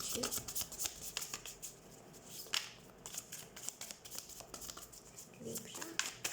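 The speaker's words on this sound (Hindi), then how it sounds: "तो सबसे पहले हम कार्ड शफल कर लेते हैं।" Tarot cards are shuffled by hand in quick, crisp riffling flicks, close and soft, repeating steadily across the clip with a faint voice briefly underneath.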